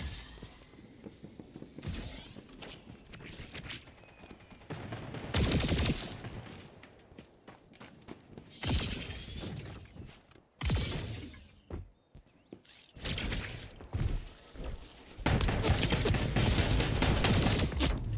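Rapid bursts of gunfire from the Splitgate 2 video game, including shotgun blasts, erupt repeatedly over about eighteen seconds with loud dense volleys and short lulls between them.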